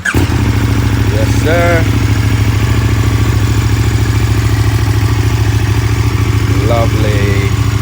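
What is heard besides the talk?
KTM Superduke 1290RR motorcycle engine firing up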